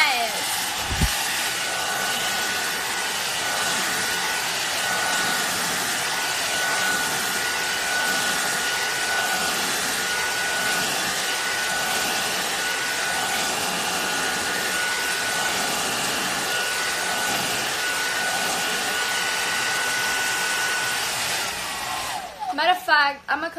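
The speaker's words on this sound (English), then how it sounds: "I'ma come back once, you know, I do the blow dryer, because the noise is kind of annoying." A hair blow dryer runs loud and close as a steady, unbroken whoosh for more than twenty seconds, then cuts off with a brief clatter at the end.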